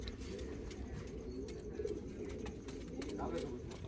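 Low, soft pigeon cooing fills a loft, a steady murmur of overlapping birds with faint chirps and rustles, quiet and continuous throughout.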